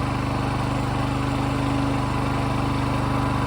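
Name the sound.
Champion portable generator running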